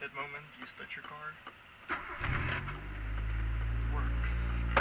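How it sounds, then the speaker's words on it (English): A car engine cranks and catches, then settles into a steady low idle hum that stays loud to the end; a person talks before the engine starts. "That moment you start your car."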